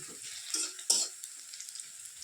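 Onions and chillies sizzle softly in a pan, with a couple of quick scraping stirs standing out above the frying.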